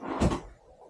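A keyboard drawer inside an RV swings down and lands with a single short, close wooden clunk, followed by a quiet settling rattle and no voices.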